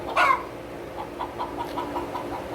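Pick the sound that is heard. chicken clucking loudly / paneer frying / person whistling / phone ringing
chicken clucking loudly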